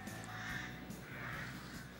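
Rooks cawing in woodland, harsh calls overlapping continuously at moderate distance over a steady outdoor hum, with no talk.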